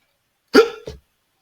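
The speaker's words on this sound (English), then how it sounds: "Peter has hiccups" Two quick hiccups from a person, one right after the other, close and clear with no talking.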